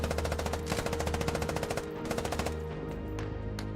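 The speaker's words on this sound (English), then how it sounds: "you can do burst fire, one right next to the other, just to keep that guy down, to give your guys a chance to move" Rapid machine gun burst fire in the Squad video game, with two weapons trading bursts back and forth. The dense, rhythmic rattle is loud and continuous, with no talking.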